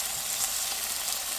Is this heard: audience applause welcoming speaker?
no